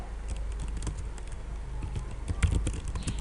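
Fingers type on a computer keyboard while writing Java code, giving a quick, uneven patter of soft key clicks at close range with no talk.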